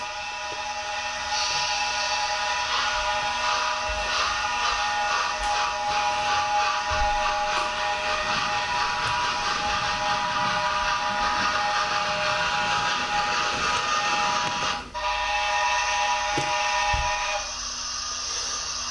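The whistle of a Hornby DCC sound model Class A4 Pacific steam locomotive shrills steadily over a constant hiss of steam, holding for most of the stretch with a brief dip near the end.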